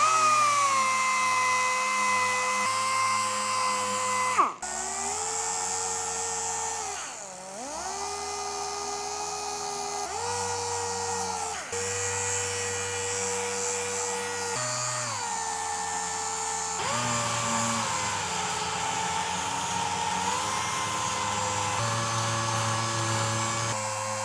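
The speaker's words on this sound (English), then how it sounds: "I switched to 320 on finish sander" A finish sander works over a classic car steering wheel, a continuous whining drone that dips and shifts pitch as pressure changes, close and sustained for over twenty seconds with no talking.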